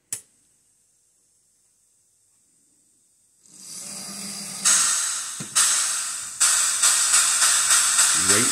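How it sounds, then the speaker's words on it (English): After a brief click and silence, a model train sound unit's hissing steam sound rises and then bursts out in a series of puffs, growing louder and more rhythmic. "Steam sound."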